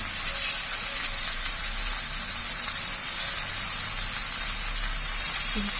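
Chopped tomatoes sizzle in a pan of fried spices for a Bengali fish curry. They give a steady, loud, hissing fry that holds without a break.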